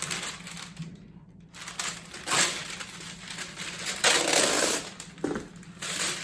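Scissors snipping parchment paper to the width of a cheesecake pan, with several close, crisp crunching cuts in irregular bursts between brief quieter pauses.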